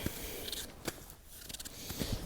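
Scissors snip during work with yellow melons on a Khorezm farm, a few sharp, isolated clicks spaced irregularly over quiet outdoor background.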